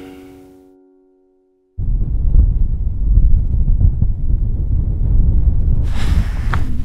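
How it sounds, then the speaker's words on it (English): Wind blowing at a glacial lake in central Oregon on a cold morning: a steady, loud rumbling roar with buffeting gusts against the microphone, after a brief quiet start. "Still windy and really cold"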